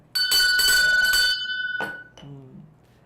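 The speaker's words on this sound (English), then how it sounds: "Ring a bell for him." A bell is rung in congratulation, a bright metallic ringing struck several times in quick succession, fading out before one shorter ring and a brief low voice at the end.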